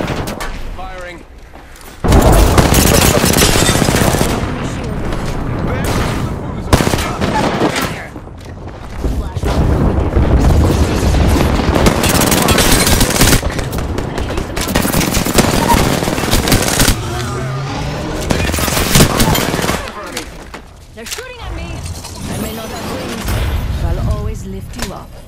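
Apex Legends gunfire and explosions pound almost continuously in loud, dense bursts, with a player talking over the sustained battle noise.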